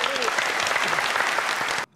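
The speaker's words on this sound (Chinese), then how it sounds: "掌声鼓励" Studio audience applause on a Taiwanese quiz game show, a dense, steady burst of clapping that fills the room for nearly two seconds, then cuts off abruptly.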